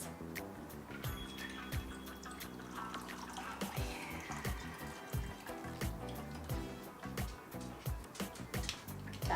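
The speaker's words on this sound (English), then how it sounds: "Now we can strain it into our martini glass." A creamy pumpkin pie martini is strained from a shaker into a martini glass, making a steady trickling, splashing pour with small clinks and drips. The pour is close and continues throughout.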